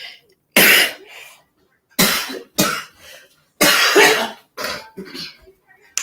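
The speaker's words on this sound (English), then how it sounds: "I'll be having this cough sometimes when I wake up." Several sharp, harsh coughs come in separate bursts with short silent pauses between them, close and loud.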